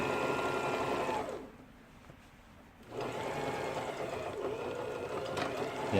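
An Elna 3210 sewing machine, just repaired, runs a test seam with a steady whirring stitch, stops briefly for about two seconds, then starts up again close and continuous.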